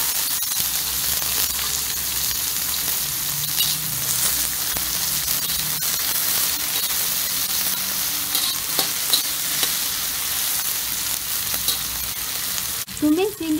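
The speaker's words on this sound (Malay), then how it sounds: "Tumiskan bawang putih, bawang merah dan juga cili." Garlic, shallots and chili are stir-fried in a pan for a mushroom prawn soup, making a loud, continuous sizzle with light stirring scrapes throughout and a clatter near the end.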